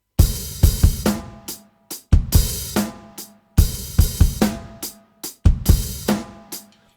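A drum kit plays a groove with open hi-hats, loud and close, in repeated bars of kick and snare hits with washy cymbal openings and brief pauses between phrases.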